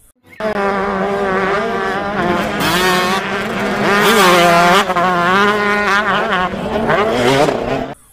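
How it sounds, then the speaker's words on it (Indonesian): Motocross motorcycle engine revving loudly and steadily, its pitch rising and falling through several throttle sweeps, close by and with no talk. "Ini adalah motor cross."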